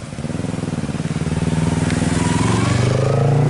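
A motorcycle engine throbs with a close, rhythmic pulse and slowly swells louder as it crawls up a steep hill, squeezed between two cars in a fully jammed uphill road.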